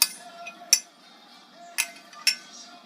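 Metal spoon clinking against a bowl while whipped topping is added to pumpkin pie filling, a few sharp, bright taps spaced over a few seconds, close and clear in a quiet kitchen.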